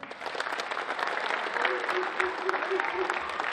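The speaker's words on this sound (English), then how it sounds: "Give a round of applause to your parents." A crowd at an outdoor youth football camp applauds the parents, a soft, fairly distant wash of clapping with a voice speaking faintly over it partway through.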